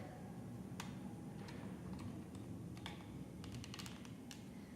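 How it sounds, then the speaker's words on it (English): A wire connector clicks into the left side of a Contour II controller: several faint, sharp ticks scattered over a steady low background hum, with no talking. "You'll hear it click."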